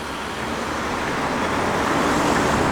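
Steady car traffic on a Russian city street, a dense continuous roadway rumble of passing vehicles that builds slightly, close and fairly loud with no voices.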